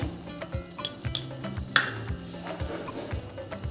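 Ghee sizzles and crackles steadily in a hot pan while sweet modak-style offerings are made, with a few stirring scrapes and light utensil taps over the continuous frying hiss.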